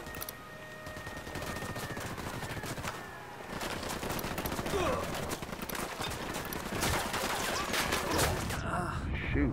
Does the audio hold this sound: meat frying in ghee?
no